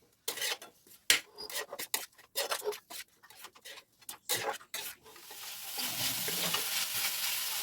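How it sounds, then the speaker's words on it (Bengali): Palm jaggery is stirred into a semolina filling in a pan over a medium flame: a quick run of rhythmic scraping strokes with the spoon, then a steady close sizzle, with no talking. "গুড়টা দিয়ে ভালো করে মিক্সিয়ে নেবো।"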